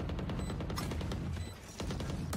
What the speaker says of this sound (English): Shooting through. With the Odin again.